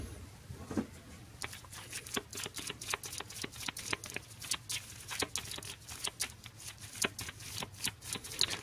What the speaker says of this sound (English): considering I just shuffled my deck again